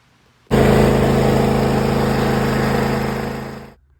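A John Deere Z335E zero-turn mower with a 42-inch cutting deck starts abruptly and runs at a steady, loud, close drone for about three seconds, then winds down and cuts off.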